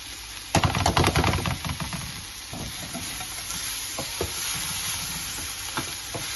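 Boiled, drained quinoa is tipped into a pan of vegetables over high heat and stirred, with scraping spoon strokes and knocks up front, then a continuous soft sizzle and intermittent stirring scrapes.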